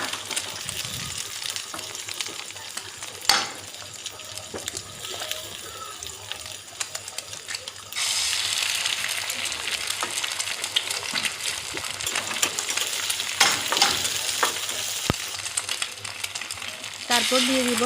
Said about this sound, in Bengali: তারপর একই তেলের মধ্যে প্রথমে দিয়ে দিব পেঁয়াজ কুচি। পেঁয়াজ কুচিগুলো হালকা বাদামি রং করে ভেজে নিব।